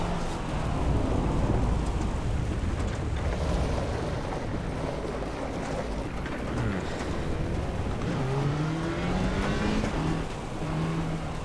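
Rain drums steadily over a car cabin in the Assetto Corsa EVO racing game, a dense wash of water noise over a low engine drone, with wipers swishing and tyre hiss rising and falling throughout, no voices.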